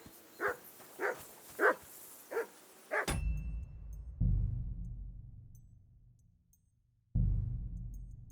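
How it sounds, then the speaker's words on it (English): A dog barks in the medieval role-playing game Kingdom Come: Deliverance II, giving five sharp, evenly spaced barks up close before low rumbling ambience and thuds take over. "Whistle at that mutt of yours to stop barking!"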